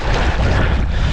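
Strong gusty wind buffeting the microphone while foil kite surfing with a Flysurfer Sonic 5 on open water, a loud continuous roar of wind noise.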